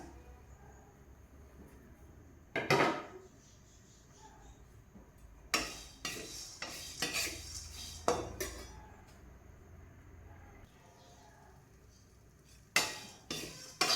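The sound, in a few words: roasting rice flour and roasted gram in a pan, stirring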